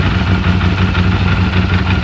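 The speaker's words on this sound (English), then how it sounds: "Want to hear a V4 LS run?" A 1650 cc V4 motorcycle engine built on LS architecture runs at a steady idle nearby, a loud, even, throbbing rumble with no voices.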